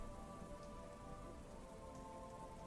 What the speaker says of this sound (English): It's rain falling on a beach with the bioluminescent plankton or algae or whatever.